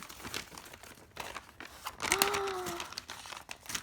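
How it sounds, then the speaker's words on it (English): Scissors cut open a mailed package, with close, dry crinkling and tearing of packaging in bursts and a brief scraping slide in the middle. "Let me cut into it again. Cut it open."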